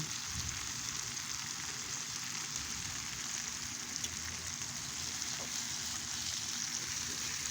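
Food sizzling on an extra large Bella electric griddle, a soft, even, rain-like hiss that stays steady and fairly quiet throughout, with a faint low hum beneath.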